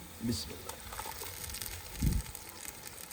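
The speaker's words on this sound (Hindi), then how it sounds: "टमाटर की भी अदरक और लहसुन के साथ अच्छी तरह बुनाई कर लेंगे।" Ginger, garlic and onion fry with tomato puree in a pan for a green chickpea dish, giving a soft, quiet sizzle with a couple of brief louder stirring bursts.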